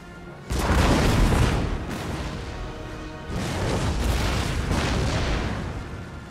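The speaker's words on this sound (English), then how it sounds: "24 pounders, they are siege guns." 24-pounder siege guns fire a volley in Empire: Total War, heavy booming blasts rolling into a long rumble, followed by a second wave of cannon fire.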